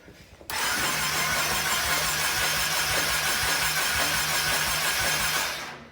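The engine of a flooded 2020 Can-Am XMR 850 off-road vehicle cranks steadily and loudly for about five seconds, a rapid repeating churn that starts abruptly and fades at the end without catching.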